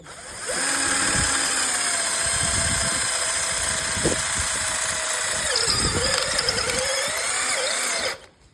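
A cordless drill drilling into brick whirs steadily for several seconds in second gear with a high squealing tone and grinding bursts, then winds down abruptly at the end.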